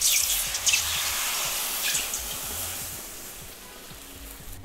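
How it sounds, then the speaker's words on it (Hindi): Water poured into roasted golden-brown semolina in a hot pan for upma, bursting into a loud hiss and sizzle at first that fades to a quieter bubbling over a few seconds. "तो मैं इसमें पानी डाल रही हूँ।"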